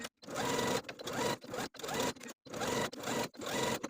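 A sewing machine runs top stitching along a denim jacket seam in short bursts of rapid needle clatter with brief pauses between runs.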